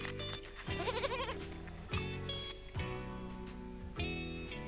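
Goats bleat in wavering, quavering calls over a steady musical backing, with a few sharp thumps punctuating the clip.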